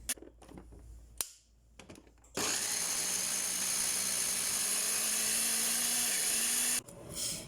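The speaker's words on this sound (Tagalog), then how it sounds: "I-blender natin." A few clicks and bumps, then a loud, steady whirring motor runs for several seconds before cutting off, a kitchen blender chopping onions and garlic.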